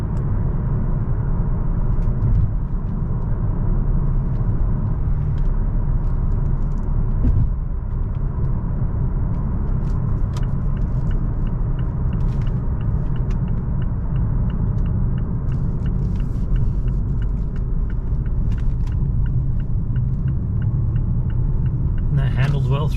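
A 2018 Mazda3 Grand Touring cruising at 45 mph, heard from inside the cabin as a steady low road and engine rumble with tire noise, unchanging throughout, and a person talks at times over it.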